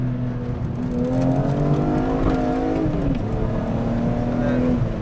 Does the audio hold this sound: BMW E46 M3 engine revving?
yes